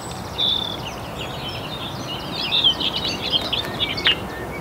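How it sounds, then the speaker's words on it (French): Many birds chirp outdoors, with bright tweets and short trills scattered over a low steady background hum, moderately close and without any talking. "Il y a beaucoup d'oiseaux ici,"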